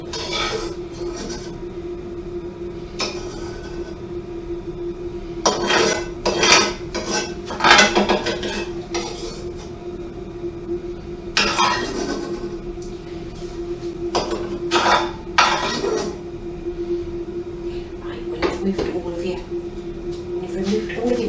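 Metal slotted spoon scraping and clinking against a frying pan while lifting out fried mince for lasagne, a string of sharp clanks and scrapes over a steady background hum, with a voice talking throughout.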